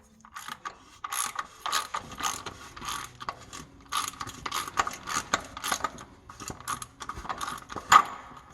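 Ratchet clicking while a car oil filter is screwed back in, in a speed shop: quick bursts of metallic clicks repeat in short strokes with brief pauses, close and fairly quiet, with no talking.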